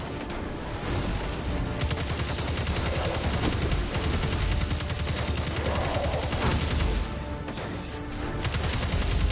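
Sustained rapid gunfire from a Destiny 2 shooter game on PS4, dense bursts of automatic shots rattling continuously at loud, near level with brief lulls, no talking.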